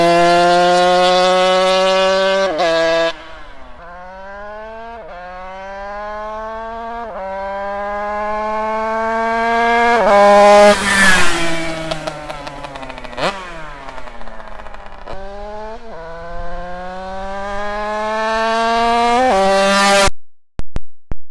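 A modified 50cc motorcycle engine revs hard again and again, each rev a rising, buzzy two-stroke wail climbing through the gears with brief drops between, loud and close for about twenty seconds with no talk.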